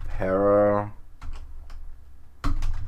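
Commands typed on a computer keyboard, a few scattered keystroke clicks and a brief flurry near the end, following a short hum of voice at the start.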